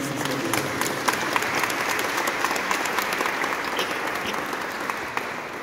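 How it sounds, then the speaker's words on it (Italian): Sustained applause from a crowd honoring two artists at a group art exhibition in Roccarainola, steady dense clapping throughout with a few sharper individual claps standing out. "credo che un applauso a questi due artisti"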